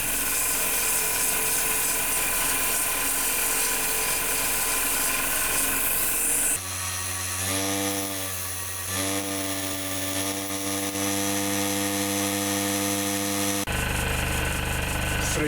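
A wooden fruit bowl spins on a woodturning lathe while 240-grit sandpaper is pressed against it, giving a continuous whirring hiss over the lathe's steady motor hum, close and moderately loud.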